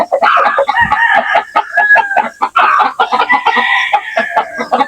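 Chickens in a coop where hens have laid eggs: near, loud clucking and a rooster crowing in steady bursts, with overlapping calls from several birds and no talk.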